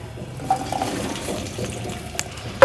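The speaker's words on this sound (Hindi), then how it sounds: "सबसे पहले मैं कढ़ाई में 3-4 टेबलस्पून ऑयल डालूंगी और इसमें हम डाल देंगे भिंडी।" Okra (bhindi) goes into hot oil in a kadai, giving a soft steady sizzle under scattered stirring scrapes and metallic clinks of a utensil against the pan, with a sharper clank at the close.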